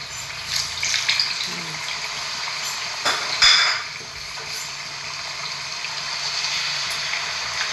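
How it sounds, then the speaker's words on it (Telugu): A short gush of water is poured into tamarind juice for a stuffed brinjal curry. It splashes briefly mid-clip over a faint kitchen hum, with no talking. "దాంట్లో కొంచెం వాటర్ కలిపి పోస్తాను కొంచెం."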